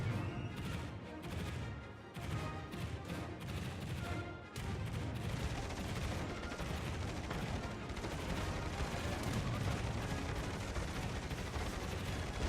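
Anti-aircraft guns on a Fletcher destroyer fire at diving bombers in World of Warships, a dense, continuous roar of rapid booming shots and bursts that stays loud throughout, with no voices.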